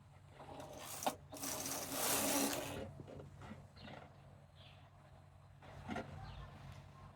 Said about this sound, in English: Then I'm going to knit 1 row right now